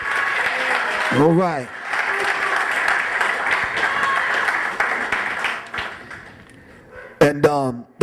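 Audience applause at a talk swells steadily through most of the span, with a voice cutting in early and a speaker talking again as the clapping fades out near the end.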